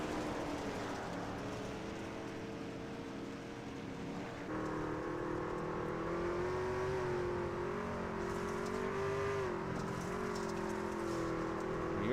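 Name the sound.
racing trucks engines revving on dirt track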